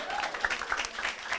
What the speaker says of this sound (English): Give Mr. Vaz a round of applause